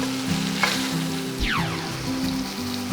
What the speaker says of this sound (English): What I'm gonna do now is baste it just a little bit more.